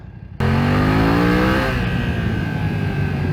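A 2020 BMW F900XR motorcycle suddenly opening up, its engine note leaping in and rising in pitch through a hard acceleration before settling into a strong sustained drone, loud and close.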